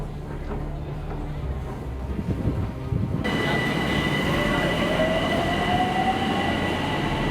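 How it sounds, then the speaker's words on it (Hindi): Metro train in a station in Iran, rumbling and clattering steadily, then louder as it arrives with a rising wheel squeal and tonal motor whine, no talk over it. "So this is the way to the metro station."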